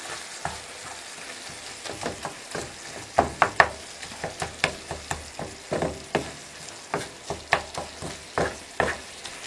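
Minced meat frying and sizzling in a pot, with a steady hiss under repeated sharp scraping knocks of a utensil stirring against the metal, close and clear, no talk.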